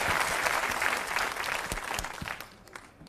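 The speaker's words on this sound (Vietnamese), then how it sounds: "Xin quý vị cho một tràng pháo tay." A theater audience applauding during a Vietnamese comedy stage play, a full, steady wash of clapping that thins and fades toward the end, leaving a few scattered claps.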